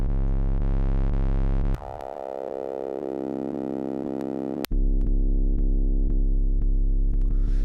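A sustained synth bass tone from stock Logic Ultrabeat sounds thickens into a gritty, distorted buzz when a doubled second layer joins, then drops back to a cleaner hum with brief clicks.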